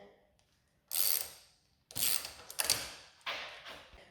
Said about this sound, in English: 10 for the socket wrench. You want to put it on loosen.